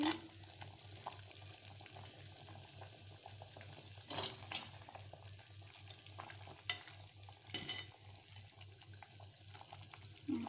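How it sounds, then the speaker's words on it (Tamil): Bitter gourd curry boils in a clay pot, giving a faint, continuous bubbling and sizzling simmer with occasional louder stirs or scrapes, nearby and without talk. "நல்லா கொதி பிடிச்சா வேகட்டும் நல்லா குழம்பு கொதிச்சு நல்லா சுண்டிருச்சு"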